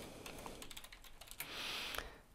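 Close, quick clatter of keys on a computer keyboard as a profile name is typed, irregular taps with a brief pause, no voices.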